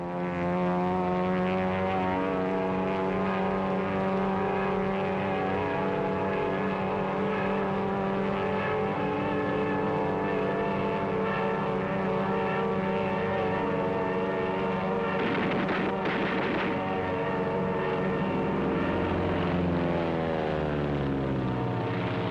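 A Zero fighter plane's radial engine drones steadily throughout, a loud continuous propeller roar with a harmonic hum that swells and shifts in pitch near the end as the aircraft passes.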